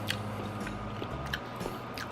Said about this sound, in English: I'm eating another piece of pork belly.